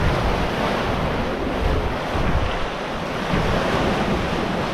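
Wind roaring over choppy seas around a Balance 526 catamaran off the Cape, a continuous loud wash of surf and gusting wind noise across the microphone with no talk.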